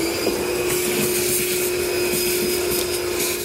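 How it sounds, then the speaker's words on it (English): A shop vacuum runs steadily while cleaning drill shavings out of the bed of a 2020 Toyota Tundra during a gooseneck hitch installation, a loud continuous whine with scraping, rattling debris pickup. "we're going to vacuum up the shavings we made from drilling out those holes"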